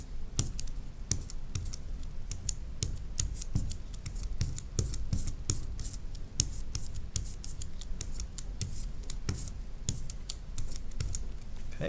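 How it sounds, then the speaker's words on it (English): Ink being rolled onto a printing block with a brayer in a studio, a quiet, continuous tacky rolling with frequent small clicks and ticks over about twelve seconds. "Now I'm going to roll the ink onto my block."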